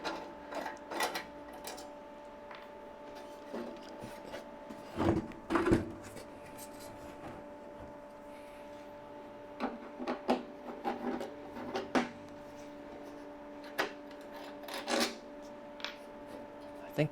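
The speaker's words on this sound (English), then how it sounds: "first we get rid of the metal shield that covers up where the floppy goes" Removing the screws from the metal shield over the floppy bay of a TI-99/4A Peripheral Expansion Unit, with scattered close metallic clicks, scrapes and knocks over a steady low electrical hum.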